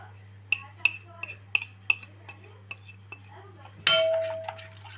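Ribs in a pan being turned with salt, pepper and paprika, giving a series of light, sharp clinks of utensil against cookware at a steady spacing, followed by a brief louder scrape and a short ringing tone over a low steady hum.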